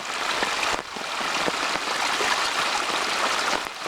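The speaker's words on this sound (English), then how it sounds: "when it overflows, it's supposed to act like it's a waterfall." Water spilling over a rock dam during flooding, pouring like a small waterfall: a steady, loud, close rush of broadband splashing that continues without a break.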